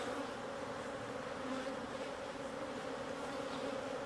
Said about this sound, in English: the hives are still making some brood, and they're definitely putting honey stores in for winter.